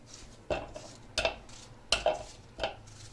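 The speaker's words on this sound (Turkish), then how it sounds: "Şimdi domatalarımızı da doğrayalım." A knife strikes a cutting board in slow, uneven chops through tomatoes, four or five sharp knocks against a faint kitchen hum.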